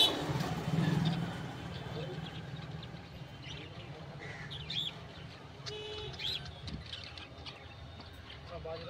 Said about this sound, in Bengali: বাজজিগার পাখি আছে